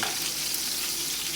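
NY strip steaks frying in a pan with rosemary and garlic: a steady, dense sizzle close up, continuous and loud with no voices.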